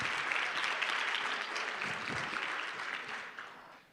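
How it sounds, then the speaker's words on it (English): An audience at a youth economic council panel event claps in a sustained round of applause that gradually fades toward the end. "Give him a round of applause, please."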